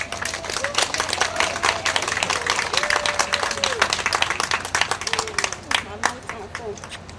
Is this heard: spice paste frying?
no